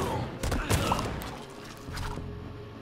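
Gunfire aimed at the player in Funko Fusion, a burst of several sharp shots and thuds early on, then scattered impacts, fairly loud and close amid game noise.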